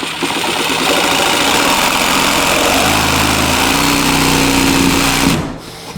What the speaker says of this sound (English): What I want to do is cut into the pipe.